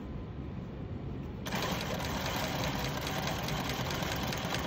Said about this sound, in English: I'm just going to sew a straight stitch